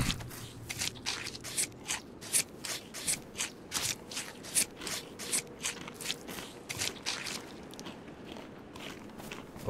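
A knife carves up a raptor carcass in DayZ, with steady wet slicing and tearing strokes repeating about twice a second, close and moderately loud over faint background noise.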